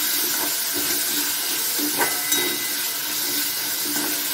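Sprouted peas and tomatoes fry in a pan with a steady, close hiss and sizzle, with a few faint stirring scrapes over the crackle.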